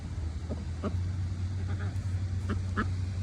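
Several short duck quacks, scattered and moderately distant, over a constant low engine-like hum.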